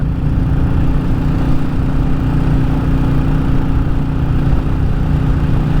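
Royal Enfield Classic 350 single-cylinder engine holding a steady drone in top gear at about 50 mph and 3,500 rpm, loud and continuous with wind rush, on country lanes in Powys, with no talking.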